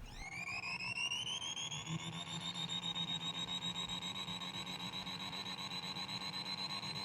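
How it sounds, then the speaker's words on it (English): An MRC vintage toy train sound unit plays a synthesized diesel engine with a turbocharger whine, a steady pulsing electronic throb under a rising then sustained high-pitched whine, fairly quiet and continuous, with no voices. "The diesel sound has a bit of a whine to it."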